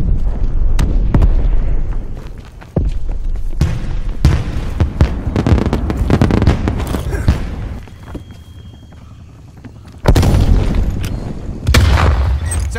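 A Semtex grenade blast in Call of Duty: Black Ops multiplayer, VIP Escort mode on the Cartel map, heavy booms and bursts of gunfire packed densely over continuous loud battle noise, with brief lulls.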